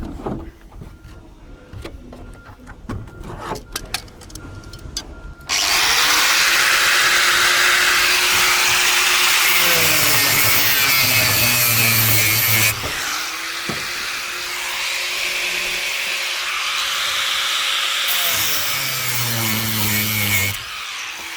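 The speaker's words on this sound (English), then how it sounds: "start grinding these nuts off." A power tool grinds nuts off the bolts of a profiled asbestos roof, a loud harsh whine that starts abruptly after some quiet handling noises and runs continuously, wavering in pitch as it bites into the metal.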